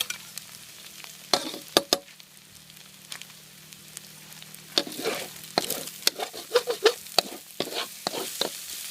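Spatula strikes scrape and clatter against a wok over soft frying while stir-frying pork fried rice with kale, in irregular bursts that grow busier toward the end.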